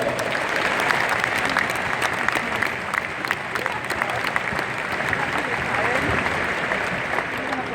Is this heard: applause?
yes